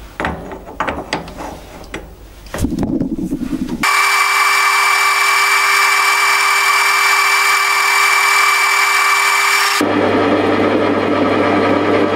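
A metal lathe turns a small camera mount screw with a carbide insert, opening with clattering and scraping, then a loud, steady whine of the spindle that shifts to a lower drone near the end.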